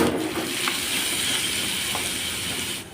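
Crushed coconut dropped into hot coconut oil sizzles and hisses steadily, a close, continuous frying crackle with no talking.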